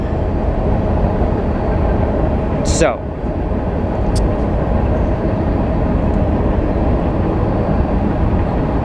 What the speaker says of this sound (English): Another train, really?